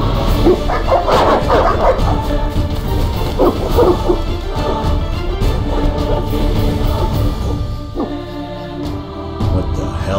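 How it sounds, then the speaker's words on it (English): Dogs in the video game The Witcher 3 barking and yelping in repeated loud bursts, mixed with crashing and commotion, a busy, chaotic scene that continues throughout without a pause. "What are those dogs doing?"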